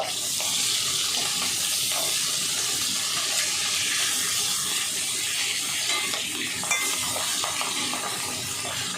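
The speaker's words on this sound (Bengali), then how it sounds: "মাছের মাথাগুলো আমি একটু লাল লাল করেই ভেজে নেব।" Hilsa fish heads fry in hot oil until reddish, giving a dense, steady hiss and crackle that stays loud and close throughout, with no voices.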